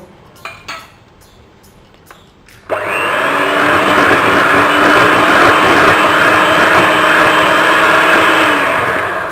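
An electric mixer beats cake batter for a Kentucky butter cake, starting after a few light clicks and knocks, then running as a loud, steady, continuous whir close by, with no speech.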